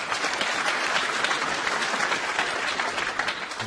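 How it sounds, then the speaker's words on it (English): Snooker crowd applauding at the Champion of Champions match between Ronnie O'Sullivan and John Higgins, a dense, steady burst of clapping from a large audience with no voices over it. "crowd applauds"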